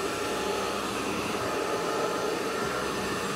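A hair dryer heats the touchscreen glass of a Nokia Lumia 610 being replaced, a steady, loud, close blowing whoosh with no pauses or talk.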